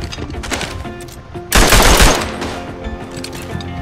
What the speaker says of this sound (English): And now I have a machine gun.